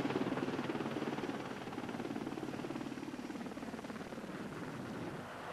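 Military helicopters airlifting casualties in the Falklands conflict, a steady distant rotor thrum with rhythmic chopping, fairly faint and continuous, no voices.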